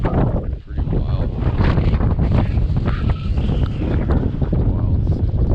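Strong wind gusting around 40 during a snowy Washington deer-season outing, a loud, roaring rumble buffeting the microphone continuously with surging swells, and a voice is faintly present beneath it.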